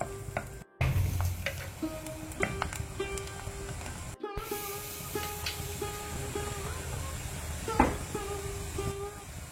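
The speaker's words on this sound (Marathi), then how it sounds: "एक धाकटो पियाव लांबा एक कातरून घालचो आनी वो गोल्डन ब्राउन जाता म्हणसर तिकेशे भाजून काडया" Sliced onion frying in hot oil in a pan until golden brown, with a steady close sizzle, occasional stirring scrapes and a few brief clinks.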